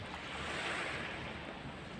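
Sea waves washing onto a reef shore at night, a soft, steady distant surf wash with faint wind, quiet and continuous without any voices.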